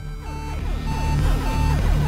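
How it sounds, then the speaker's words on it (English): Loud electronic warning beeps from the video game Axiom Verge, a repeating chain of pulsing tones over a low droning hum, steady and close throughout. "Beep, beep, beep."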